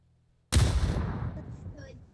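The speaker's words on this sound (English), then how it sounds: "That's a grenade." After a near-silent moment, a PUBG grenade explosion booms in a single sharp, heavy blast that decays over about a second and a half.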